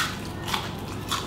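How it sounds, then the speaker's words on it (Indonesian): Crunchy bites into a crispy layered pastry, close and fairly loud, with two or three sharp crackles over a steady background hiss. "Oh, pokoknya kriuk-kriuk banget ya. Langsung kita cobain."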